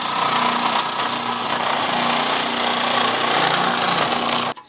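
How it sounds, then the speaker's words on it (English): A food processor grinds steadily through carrots, a dense, loud, unbroken whirring rasp that runs for several seconds before cutting off abruptly. "So I'm gonna grate my carrots first, measure them out, and then add everything back."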